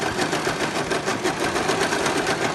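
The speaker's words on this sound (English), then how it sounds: "Here I'm overlocking the edge of the fabric so it looks like this and it won't fray." An overlocker serges the edge of fabric with a fast, even, continuous mechanical whir and rapid needle chatter, close and steady throughout with no talking.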